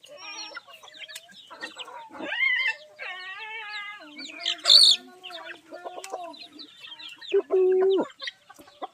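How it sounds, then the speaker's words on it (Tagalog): A flock of about 89 chickens clucking and squawking nearby, overlapping calls with a few louder, higher squawks, no talking. "Ayan ang aking mga manok. Ang dami."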